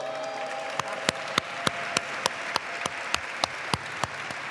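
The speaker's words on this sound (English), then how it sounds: "Let's give a big round of applause for Ann Cervantes." At an awards ceremony for a Latino Heritage Month celebration, the audience answers with sparse, evenly spaced claps, each one distinct and sharp against a quiet room, a dozen or so hits at a steady beat.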